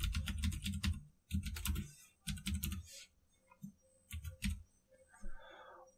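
Someone types on a computer keyboard nearby in quick bursts of clicking keystrokes, separated by short pauses, fairly quiet and alone.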